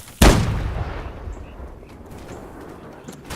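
A single loud, close cannon blast in a war-themed video game, a sharp boom at the start that rolls into a long, slowly fading rumble with no talk over it.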